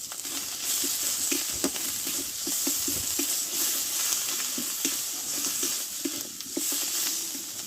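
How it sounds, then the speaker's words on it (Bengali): Spice paste for a thin Bengali fish curry sizzles and fries steadily in a pan, with a continuous crackling hiss and repeated soft scrapes and knocks of stirring throughout. "দিয়ে ভালোভাবে একটু কষে নেবো"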